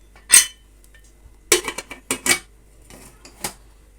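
A pressure cooker lid being closed over potato gravy ingredients: a few sharp, close metallic clinks and clatters in short bursts, separated by quiet pauses.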